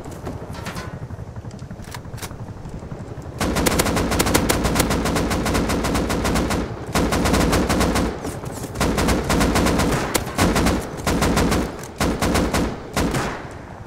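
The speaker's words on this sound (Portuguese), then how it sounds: "Acertei todos os tiros, metade dos tiros." Rapid automatic gunfire from a firefight in the survival game Rust, with long sustained bursts and short gaps, loud and close, lighter shots at first before dense volleys dominate.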